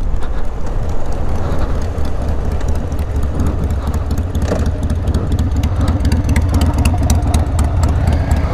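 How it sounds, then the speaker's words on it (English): A Harley-Davidson motorcycle engine idles nearby, a loud, steady low rumble with a constant rapid pulse throughout and no talk. "Yep, it's a Harley Davidson."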